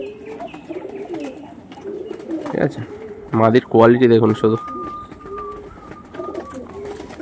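Low, throaty coos come from a pair of tournament-quality pigeons of a Harukudu line, soft and repeated in the background, while someone talks loudly over the middle of it.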